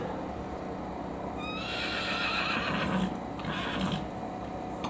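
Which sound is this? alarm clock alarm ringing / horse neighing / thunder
horse neighing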